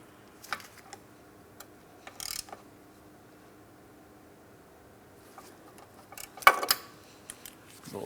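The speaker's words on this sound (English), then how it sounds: "I'm just going to use a regular ratchet for this so I don't cause any damage to my torque wrench." A ratchet turns a castle nut on a front control arm of a 2004-2008 Pontiac Grand Prix, making scattered faint clicks with a few louder ratcheting bursts. Close by, with no voices.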